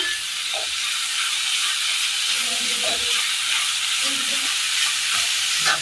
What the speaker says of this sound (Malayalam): ചെറിയുള്ളി തണ്ട് കൂടി ഇട്ട് കൊടുക്കാം. നന്നായി ഒന്ന് മിക്സ് ചെയ്തെടുക്കാം.